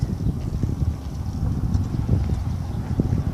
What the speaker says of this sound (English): Here's a donkey.